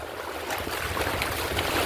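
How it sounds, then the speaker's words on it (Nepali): Rough, choppy water waves wash and surge without a break, close and loud, with no voices. "यहाँ आइसकेको पानी छाल धेरै आएको छ।"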